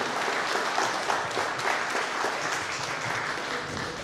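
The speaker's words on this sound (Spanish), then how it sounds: "Demos un aplauso" An audience gives a steady round of applause for an engineer who has just finished a talk on explosive atmospheres at an anniversary conference. The clapping is dense and sustained from start to finish.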